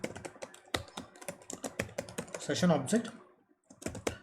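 Rapid typing on a computer keyboard: quick clustered keystrokes that pause briefly near the end before resuming, with a voice talking over part of it.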